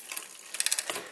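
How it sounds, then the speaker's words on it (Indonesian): A bicycle chain rubbing against the inner cage of a mechanical front derailleur makes a faint, rapid ticking rattle in short clustered bursts, close by and quiet. "bunyi itu kletek-kletek karena rantai"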